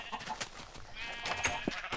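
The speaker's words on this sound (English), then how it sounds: "And a sheep has escaped." A sheep in the Minecraft video game gives a short, faint bleat against quiet game background noise.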